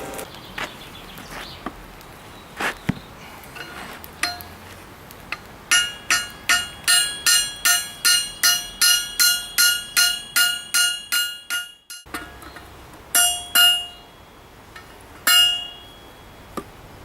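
Hot steel tongs are hammered on an anvil at a forge, a fast run of ringing, metallic strikes in steady rhythm, then a pause and a few more blows, close and loud with scattered lighter taps before.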